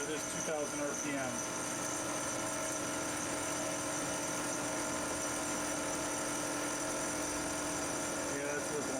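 A machine cutter turns a 7-inch diameter aluminum dive tank at 2000 RPM, giving a steady, loud droning whine with sustained ringing tones and a continuous mechanical hum throughout.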